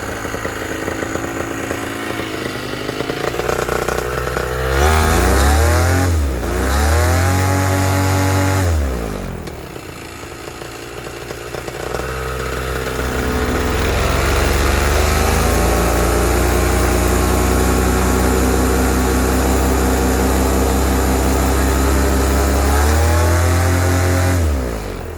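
A Moster 185 paramotor engine runs loud and close throughout while its carburetor high jet is tuned, revving up and dropping back several times with a buzzy, chainsaw-like drone.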